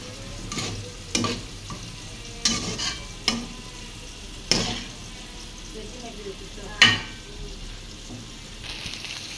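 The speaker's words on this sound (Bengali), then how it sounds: "এখন মাছগুলো দিয়ে দিব মাছ দিয়ে দিচ্ছে" Fish frying in a pan with a soft steady sizzle, broken by several sharp clanks and scrapes of a utensil moving the pieces around, fairly close.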